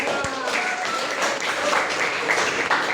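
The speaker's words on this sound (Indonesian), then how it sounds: "Tepuk tangan dulu ya." A class claps together during a teacher-training lesson, with steady, fairly loud applause running through the short stretch and a faint voice now and then.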